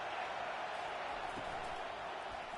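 Steady roar of a stadium crowd cheering for the defense on third down at a WVU college football game, a distant, even wash of sound heard throughout.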